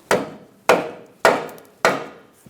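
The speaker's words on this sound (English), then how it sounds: "Use a rubber mallet, not a steel hammer," Four evenly spaced dull thuds, a rubber mallet striking a front lower control arm on a 2012-2017 Hyundai Accent, each hit close and solid with a brief decay.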